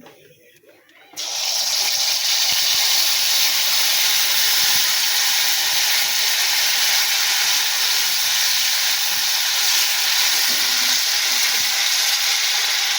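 Ground leaf paste stir-frying in oil in a Bengali kitchen, a loud continuous hiss and sizzle starting abruptly after a quiet second and holding steady to the end.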